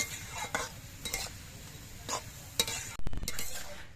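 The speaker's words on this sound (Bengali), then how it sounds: "এবার এই বাঁধাকপির মধ্যে আমি দিয়ে দিচ্ছি পরিমাণ মতো নুন নুন দিয়ে নেড়ে চেড়ে মিশিয়ে নিতে হবে" Cabbage stirred with salt in a pan, with a series of short scraping strokes over a steady low sizzle and a louder clatter near the end.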